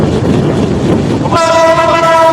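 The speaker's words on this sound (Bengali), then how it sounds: "ট্রেনে করে" Madhumati Express passenger train on the run from Kamalapur toward Bhanga, its loud close rumble and wheel clatter suddenly joined by a sustained, blaring horn blast that lasts to the end.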